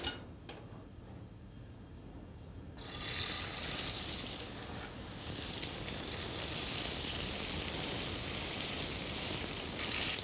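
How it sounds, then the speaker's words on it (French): Zander fillet searing in a frying pan, a quiet start that bursts into loud, steady hissing sizzle after a few seconds, briefly dipping, then holding a bright continuous crackle. "Je vais d'abord le saisir et le cuire à moitié sans la chapelure"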